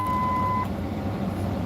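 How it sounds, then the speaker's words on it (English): A car alarm gives a single steady electronic beep that stops abruptly, over a constant background hum. "I love that the alarms work now."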